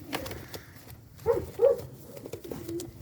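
A Gökperçem pigeon coos nearby, two soft, rounded low coos in quick succession over quiet background rustling.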